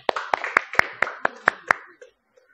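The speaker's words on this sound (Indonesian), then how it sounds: "Tepuk tangan dulu untuk kelompok 2." In a classroom, a small group claps in unison for group 2, about eight sharp, evenly spaced hand claps close by, with faint voices underneath, stopping abruptly just after two seconds.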